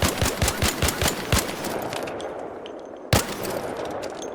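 Rapid automatic gunfire from a weapon on a training range in the ARC Raiders video game, a burst of about seven close, loud shots followed by a pause and one more sharp report.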